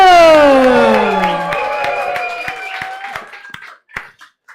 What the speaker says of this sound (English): Please give a big round of applause to Matthew Kateradu.